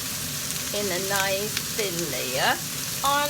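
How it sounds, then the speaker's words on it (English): Onions frying in a thin layer of oil in a pan over medium-high heat, a steady sizzle running under a person talking throughout. "stirring the onions together with the oil a little bit, and then I'm just going to let it roast on the pan in a nice thin layer"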